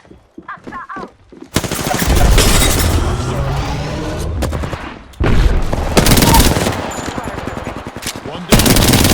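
Gunfire in the video game Apex Legends comes in loud, rapid automatic bursts broken by brief pauses, close and harsh, with a short voice line at the start.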